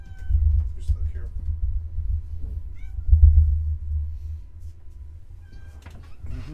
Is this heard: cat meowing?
yes